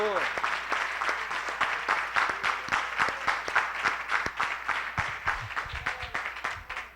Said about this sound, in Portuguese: Vamos dar uma salva de palmas bem forte ao Senhor.